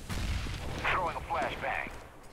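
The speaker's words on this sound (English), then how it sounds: "I'm throwing a grenade" A grenade explodes in the Counter-Strike: Global Offensive video game on the Resort map. A short, low boom opens the moment, and a voice speaks over the game sounds right after it.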